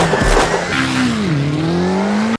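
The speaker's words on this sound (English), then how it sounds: "We rented a race car and goddammit, we're gonna use it!" Race car engine sweeping up and down in pitch with a sharp tire squeal at the start, loud and close, from a movie scene, ending abruptly.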